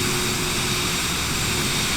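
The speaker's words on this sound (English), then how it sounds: "yeah, that's a big plane." Large airplane roaring past at close range in Microsoft Flight Simulator 2024, a steady, loud broadband engine drone that holds without a break.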